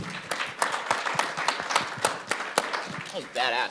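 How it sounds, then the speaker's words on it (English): Conference crowd at a blockchain event gives a round of applause, scattered claps close by with a busy, uneven rhythm, overlapping voices throughout and a louder voice near the end. "let's give them one more round of applause."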